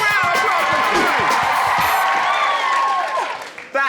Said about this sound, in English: Big round of applause for Joe.